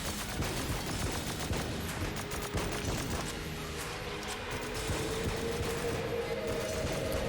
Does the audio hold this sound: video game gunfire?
yes